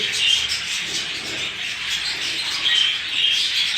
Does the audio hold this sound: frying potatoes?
no